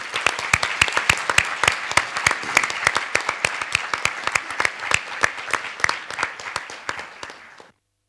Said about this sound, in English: let's have a huge round of applause for Competitions Working Group